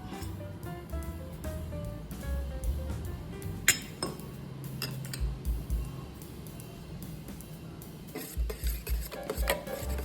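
Salt and turmeric being stirred into a mixture for an egg dish, with a spoon clinking and scraping against a bowl in an irregular rhythm, close and fairly quiet, no voices.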